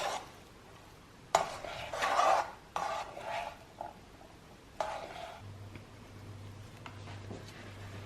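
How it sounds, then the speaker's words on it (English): A spoon gently stirs spicy paneer samosa filling with chopped coriander, giving several separate scraping, rustling strokes against the pan, close and fairly quiet, with a low hum in the background. "I'm just going to gently give that a mix"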